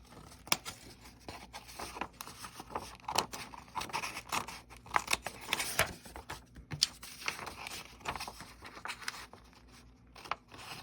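Scissors cut paper for a junk journal craft project. Soft, close snips and rustles come in an uneven rhythm, quiet throughout, with no talking.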